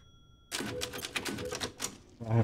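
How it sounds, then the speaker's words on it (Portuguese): Rapid clacking of typewriter keys from the Resident Evil Village video game, a quick run of mechanical strikes ending in a louder carriage thunk, heard alone. "Eu precisava da máquina de escrever."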